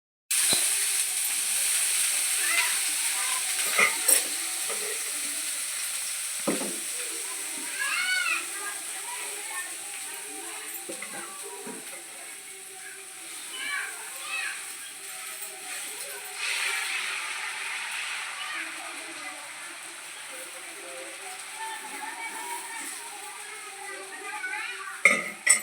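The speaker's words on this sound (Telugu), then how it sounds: "ఎగ్ దోశ అయితే వేస్తున్నాను." An egg dosa frying on a pan, a faint steady sizzle and hiss with occasional clicks of utensils, running under someone talking through much of it.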